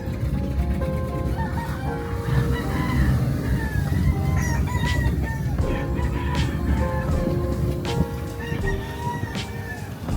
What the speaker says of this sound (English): Hi, roosters.